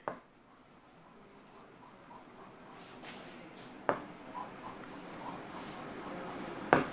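Pen or pencil writing out a class 10 maths solution on an area-of-shaded-region problem, a soft steady scratching close by with a few sharper taps, heard alone without talk.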